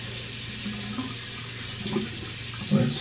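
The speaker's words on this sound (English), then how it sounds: "I'm gonna rinse off my face here now." Water runs steadily from a sink tap while a face is rinsed after shaving, a close, continuous hiss with faint splashing and a slight surge near the end, no talking.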